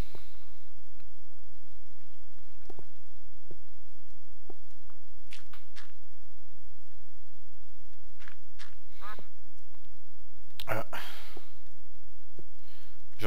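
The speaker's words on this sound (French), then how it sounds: "J'entends un canard qui fait coin coin." Scattered soft quacks from a duck in a video game, faint and sparse over quiet background, with a brief louder burst near the end.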